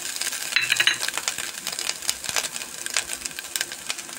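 Grated fresh coconut roasting in a pan for Karnataka-style chutney, a soft continuous sizzle with scattered scraping and stirring clicks throughout, close and fairly quiet.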